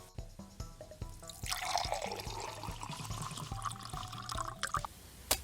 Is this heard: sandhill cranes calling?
no